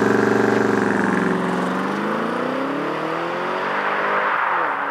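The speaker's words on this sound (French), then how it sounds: "J'ai même réussi à faire un départ turbo." A BMW M850i with a twin-turbo V8, all-wheel drive and 500 horsepower makes a standing launch start, its loud engine and exhaust rising in pitch as it pulls away, then easing into a steadier, rougher roar.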